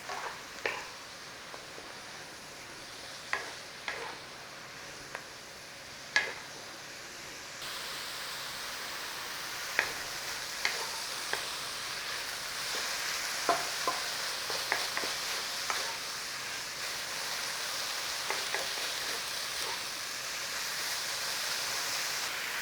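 Chicken, broccoli and spring onion stir-frying in a pan with a splash of water, a steady close sizzle that grows louder partway through, punctuated by scattered clicks and scrapes of stirring.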